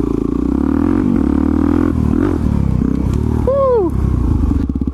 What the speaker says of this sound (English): I'm going back on the Supermoto.